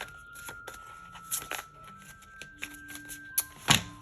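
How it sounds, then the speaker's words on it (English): Tarot cards being shuffled, sticking together, giving a series of short papery riffles and slaps of varying loudness with quiet gaps between, close up. "they are being very difficult to shuffle because they're all like sticking together"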